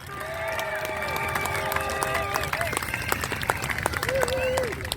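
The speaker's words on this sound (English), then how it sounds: "Big round of applause for yourselves" An outdoor rally crowd applauds and cheers, with clapping mixed into loud shouting voices and crowd babble that swells and stays dense throughout.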